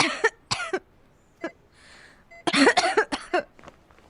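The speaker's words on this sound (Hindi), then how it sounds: "देख, खांसी करवा दी ना बेचारी को।" A woman coughs in several sharp, close bursts, with a short throat-clearing pause between fits in an otherwise quiet room.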